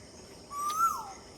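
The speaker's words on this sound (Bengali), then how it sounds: "কোকিলের ডাক শুনতে পাচ্ছেন আপনারা?" A koel gives one clear, rising whistled call at a moderate distance on a quiet morning outdoors, the single note standing out against faint background hush.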